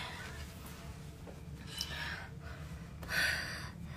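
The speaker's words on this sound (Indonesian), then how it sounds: "Ngos-ngosan." Heavy, breathy panting after a bout of running, with audible gasps and exhalations at close range that grow louder toward the end.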